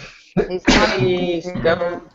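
A person sneezes close to a microphone during a casual voice chat, a sharp burst surrounded by people talking.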